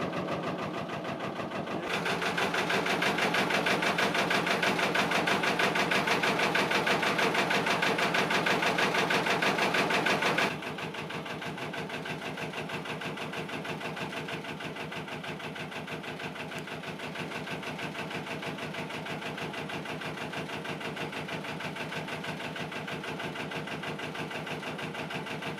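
A narrowboat diesel engine chugs steadily with a rhythmic mechanical beat, rising louder and busier for several seconds as it is briefly put into gear, then settling back to a quieter idle.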